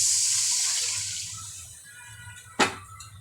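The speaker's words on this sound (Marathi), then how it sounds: "तर याच्यामध्ये आपण आता ते मसाल्याचं पाणी थोडंसं ते टाकून घेऊया" Masala water poured into a pan of fried wet-coconut masala for a pomfret curry, a steady pour that fades over about two seconds, followed by a short sharp splash or clatter.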